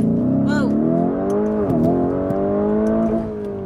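A 2020 Lamborghini Urus launches hard from a standstill, its engine roar loud and close with rising harmonic tones as it pulls, while a person talks over it.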